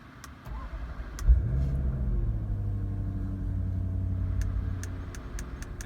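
A 2019 Jaguar F-Pace SVR starts with its rear exhaust flaps open in loud mode, a sharp crank and catch followed by a deep, steady idle rumble heard from nearby, no talk.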